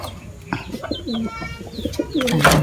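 Racing pigeons coo at their loft, with soft rolling coos and a few chirps overlapping close by, plus light rustling and a brief sharper flutter near the end.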